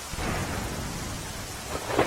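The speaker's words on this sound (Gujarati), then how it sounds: "ભારે પવન સાથે વરસાદ વરસ્યો" Heavy rain with strong wind in a hilly area of Chhota Udepur in Gujarat pours in a dense, steady roar with deep rumbling, loud and close, with no voices.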